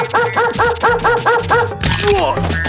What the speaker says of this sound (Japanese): なんだありゃ、犬か。